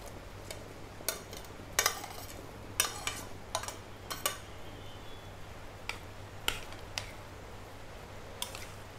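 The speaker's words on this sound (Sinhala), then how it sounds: "දැන් අල ටික ටිකක් වෙලා තැඹුණාට පස්සේ අපි බ්‍රොකොලි ටික දාමු" Broccoli florets dropped into a soup pot with potatoes already simmering, then stirred; a series of sharp clinks and taps of a spoon against the pot ring out at irregular intervals over a low, steady hum.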